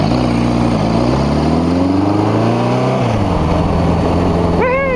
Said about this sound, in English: this is a good ride on the motorcycle